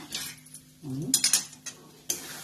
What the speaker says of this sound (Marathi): आता हे चांगलं घट्ट होईपर्यंत हलवायचं.